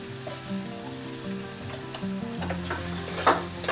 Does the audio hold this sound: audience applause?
no